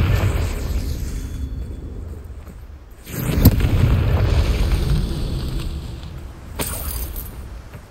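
Confringo blasting spells exploding in Hogwarts Legacy, two separate booming blasts several seconds apart, each a sharp crack that swells into a rumbling roar over a low wind-like game ambience.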